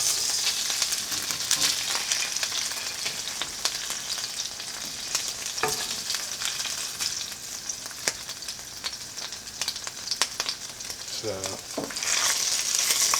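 Grease fries and sizzles in a pan, a dense, loud, continuous crackle with scattered sharp pops, heard close up while a voice speaks briefly.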